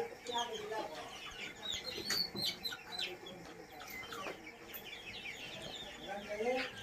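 Many chickens clucking and crowing together at a middle distance on a poultry farm, a busy overlapping flock with occasional louder calls.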